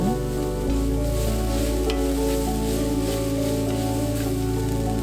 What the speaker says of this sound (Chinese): 香菇炒香了之后呢，就放入木耳。 翻炒均匀，